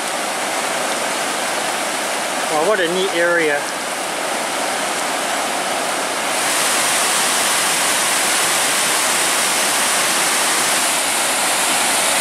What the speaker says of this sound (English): Right here we're looking at the top of Devil Kettle Falls.